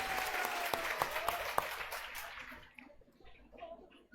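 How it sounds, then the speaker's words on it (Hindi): An audience claps loudly at a gathering. The dense applause lasts about two seconds, then thins out and fades away. "एक बार इनके सिलेक्शन के लिए जोर से ताली।"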